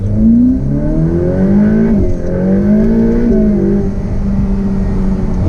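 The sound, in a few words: Ferrari sports car turbo engine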